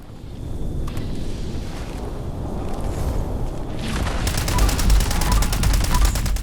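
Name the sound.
gunfire in the video game Fallout 76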